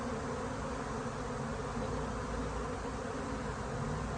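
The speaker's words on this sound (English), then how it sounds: "Wrangling swarms is one of the best parts about being a beekeeper." A swarm of honey bees hums in a steady, dense drone that holds at an even loudness throughout, close by and with no talking over it.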